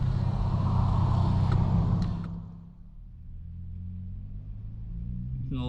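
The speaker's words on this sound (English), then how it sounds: "A lot of traffic, guys." Highway traffic with a car passing close by in a loud rush, then fading to a steady lower rumble of distant vehicles.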